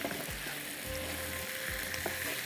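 Spicy wing masala sizzles in a pan while being stirred, a continuous close frying hiss with low scraping sweeps of a spoon recurring every second or so.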